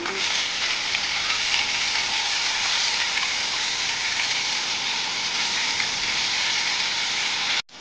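Koi fish fry in hot oil with a loud, dense, continuous sizzle and hiss that holds steady for several seconds, close up and alone, then stops abruptly.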